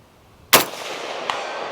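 A single loud, sharp M14 rifle shot fired outdoors, with a rolling echo trailing off and a faint distant knock of the bullet's impact about three quarters of a second later at 200 yards.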